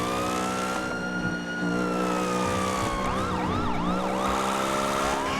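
Emergency vehicle siren in the GTA roleplay game, a loud close wail sweeping up and down, then switching to a faster yelping pattern, heard alone without talk.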